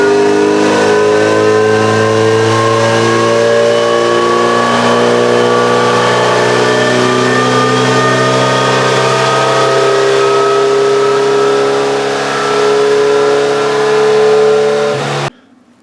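A Kawasaki Z900RS motorcycle with a Stage 2 fuel-mileage tune cruising on the road, its engine holding a loud, steady drone with a slight rise in pitch, running alone for about fifteen seconds before cutting off abruptly.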